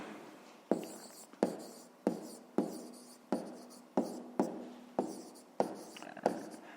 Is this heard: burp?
no